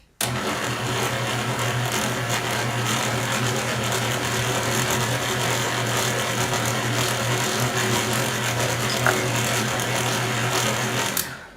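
A stand mixer with a dough hook kneads pierogi dough, its motor giving a steady, loud mechanical whir and rumble that runs unbroken for the whole stretch, with no talking.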